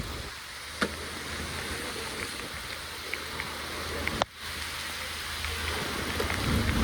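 Rain falls steadily outdoors as an even, hissing wash of drops, with a couple of sharp knocks and a brief dropout partway through.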